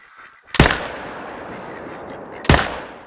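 Two sharp, loud rifle shots about two seconds apart ring out in theHunter: Call of the Wild while hunting fallow deer, each blast followed by a long rolling echo that fades between them.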